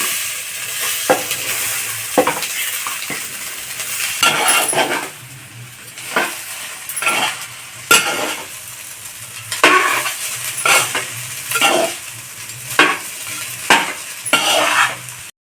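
Rice mixed with curry leaf powder is stirred in a pan, with repeated spoon scrapes and clinks against the metal at an irregular rhythm over a light sizzle, close and clear, no talk.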